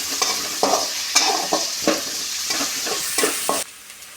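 Onion frying in a pan for white sauce pasta, a loud continuous sizzle broken by repeated spatula stirs and scrapes at an uneven rhythm, close up with no voices.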